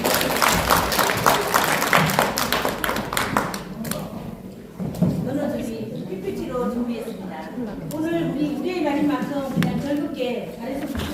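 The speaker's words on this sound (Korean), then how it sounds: "박수 한번 주세요" Brief audience applause at an awards ceremony and forum, a burst of many hands clapping that fades after a few seconds, followed by someone speaking into a microphone.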